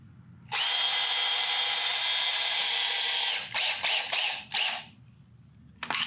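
Power drill driving a 3-inch Deckmate deck screw into wood for a horse jump: one long, loud continuous whir of about three seconds, followed by several short bursts as the screw is snugged down, then quiet.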